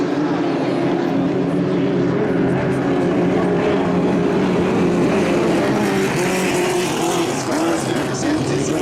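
Racing boats at the Valleyfield regatta roar past the tower in a steady, loud continuous engine drone with a strong low hum, no pauses, sustained throughout.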